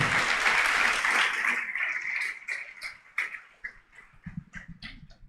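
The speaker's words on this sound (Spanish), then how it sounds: "Denle el fuerte aplauso al Señor," Loud applause from a church congregation fills the room at first, then thins into scattered, sharper individual claps as the noise fades and a few voices murmur near the end.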